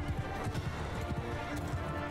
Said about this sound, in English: Oh, over 100 horses.